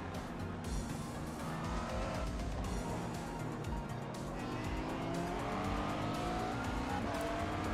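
Race cars roaring around Circuit Gilles Villeneuve in Montreal in a VR racing game, a sustained loud engine drone with rising and falling pitch as cars overtake, plus brief tire squeals, heard close from the cockpit without talk.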